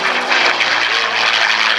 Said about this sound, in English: Now down for executing a looping or rolling manoeuvre.